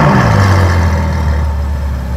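A Ferrari 812 Superfast's 6.5-litre V12 engine, loud and close, with a deep rumbling idle and a falling revving tone settling into a steady hum.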